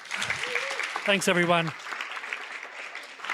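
Audience applause at a live talk event in Riyadh, steady clapping throughout the short clip while someone briefly speaks over it.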